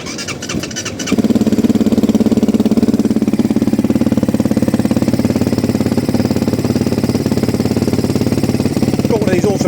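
A GPX 450 motorcycle engine cranks and catches, then settles into a steady, close idle that runs for several seconds without talk.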